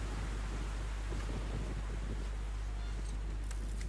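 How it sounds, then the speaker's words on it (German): Storm wind in the video game Metro Last Light, a steady low roaring rush of gusts heard alone at modest level. "Das muss ja mal ein krasser Sturm sein."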